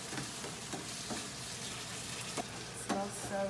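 Zha jiang mian sauce made with soybean paste fries slowly in a pan, giving a steady crackling sizzle with soft stirring scrapes and a few clinks of the utensil against the pan.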